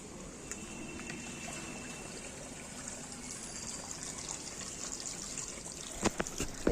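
Water trickling out of an iron guard filter during backwash and rinse cleaning at home, a faint steady flowing hiss with a few louder splashes and clunks near the end.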